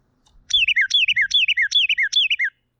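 A Carolina wren, a small, loud-voiced songbird, sings five rapid, evenly repeated rolling whistled phrases in a steady chant, close and clear over faint low background rumble.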